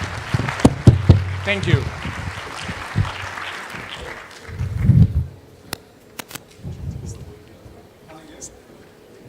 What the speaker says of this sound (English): I want a big hand of applause for these rappers